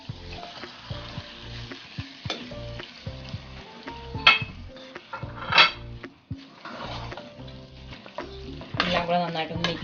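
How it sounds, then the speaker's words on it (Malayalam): Masala-spiced beef frying with onions in a pan for an Afghan beef pulao gives a steady close sizzle, while a utensil scrapes and clinks against the metal in repeated stirring strokes. "അതിലേക്ക് നമ്മൾ നമ്മുടെ ബീഫ് ഇട്ട് കൊടുക്കും."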